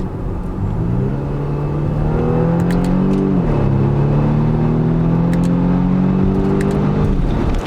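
Engine of a 2020 Volvo V60 T8 Polestar Engineered wagon, a steady close drone that climbs through the revs, dips briefly as it shifts, then pulls again and settles, running continuously with no talk.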